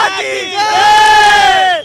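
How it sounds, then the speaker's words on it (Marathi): A crowd of young people on Ferguson Road in Pune celebrating India's women's World Cup win, with loud, close cheering and whooping voices swelling and holding before fading out. "या ठिकाणी अनेक तरुण जे आहेत ते आता जल्लोष करतायत"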